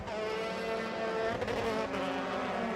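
A Euro Formula Open single-seater race car accelerating around the Jerez circuit in qualifying, its engine a steady high-revving whine held at constant loudness throughout, with no talk over it.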